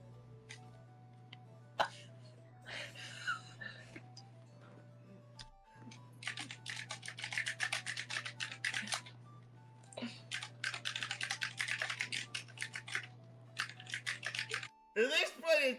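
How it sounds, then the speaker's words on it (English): Rapid clatter of typing on a computer keyboard, dense bursts of quick key clicks in uneven runs, close and clear over a low steady hum, with a few isolated taps and brief talk. "it just sounds like you're hitting random keys on the keyboard"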